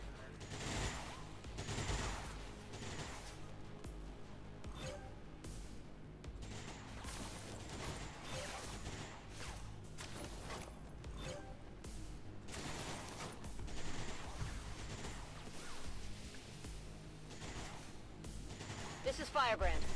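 XCOM 2 Long War of the Chosen combat brings repeated gunfire, scattered shots and short bursts popping steadily at moderate volume across the scene, with talk mixed in.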